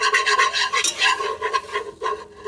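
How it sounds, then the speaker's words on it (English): Chicken pot pie soup is whisked in a pot, giving quick rhythmic scraping and rubbing strokes of the whisk against the metal, close and steady with brief pauses, and no talking. "Just keep on whisking."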